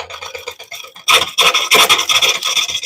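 A turning tool scrapes a wooden bowl on a lathe. A softer rasp first, then a loud, harsh, sustained scraping with rhythmic pulses as the cut bites, close and without talk.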